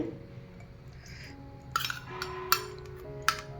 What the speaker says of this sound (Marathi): आपण याच्यात 2-3 चमचे तूप टाकूया।